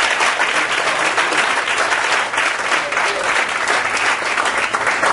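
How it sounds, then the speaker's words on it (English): Sustained applause from an audience at a training seminar in Orlando, a steady dense clatter of many hands clapping at full loudness throughout, with no voices standing out. "a round of applause"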